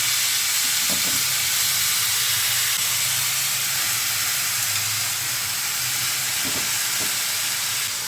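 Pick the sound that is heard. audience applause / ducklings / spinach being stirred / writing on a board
spinach being stirred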